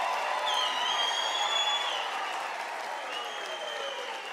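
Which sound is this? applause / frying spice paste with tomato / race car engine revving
applause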